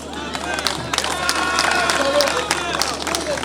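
An audience in the Democratic Republic of the Congo applauds the president at a university inauguration, steady crowd clapping with scattered voices and hubbub, moderately loud and continuous under a speaker talking in French.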